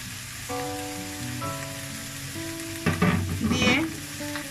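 Winter vegetables frying in a pan, a constant close sizzle that surges louder near the end as more food hits the oil, with tonal hum underneath and no talking.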